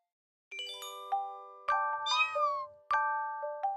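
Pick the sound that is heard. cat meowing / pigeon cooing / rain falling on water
cat meowing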